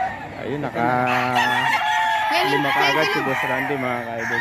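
Roosters crow at a crowded chicken market in Bocaue, several loud drawn-out calls overlapping one another while someone talks over them.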